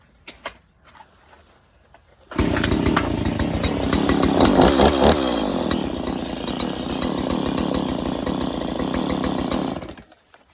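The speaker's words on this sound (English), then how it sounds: "you might just start it on the ground." A Stihl MS170 chainsaw is pull-started on the ground after a quiet moment, then roars loud and close, revving and settling into a steady high idle before cutting off abruptly.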